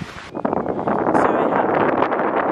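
Strong wind buffets a microphone outdoors in the countryside, a loud, continuous roar with gusty rustling and no voice over it.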